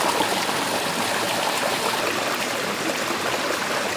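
A small waterfall in New Hampshire's White Mountains pours steadily, a dense broadband rush of falling water that stays constant and fairly close throughout, with no voices over it.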